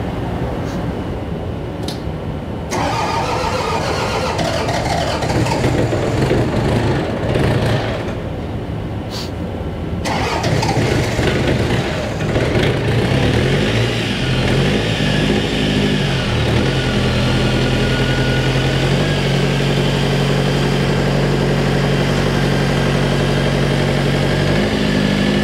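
A John Deere engine running steadily, a loud continuous mid-pitched rumble at close range after an initial burst, holding a constant idle for about twenty-five seconds with no talking.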